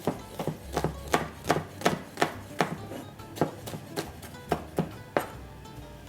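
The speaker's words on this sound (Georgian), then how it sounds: "დავჭრათ ხახვი." A knife chops an onion coarsely on a cutting board for a pork dish, about fourteen crisp, evenly spaced strikes heard up close with no talking.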